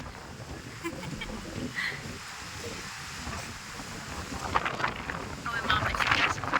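Strong gusty wind during a storm in India, a steady broadband roar that swells louder and harsher toward the end, with buffeting gusts hitting the microphone.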